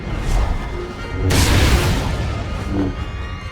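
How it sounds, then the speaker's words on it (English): Explosions rumble on the Foundry level in SWTOR, a loud low boom swelling mid-clip with a crashing burst, surrounded by deep rumbling blasts. "Warning. Critical explosions detected on the Foundry level."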